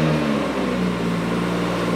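A 2019 BMW M140i Shadow Edition engine running steadily just after a cold start, a loud continuous low hum with a strong tonal drone close by, no voices.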